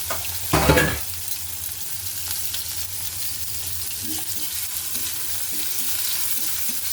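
Chopped onion frying in oil with nigella seeds sizzles steadily after a loud initial splash as it hits the pan, with light stirring clicks continuing close up.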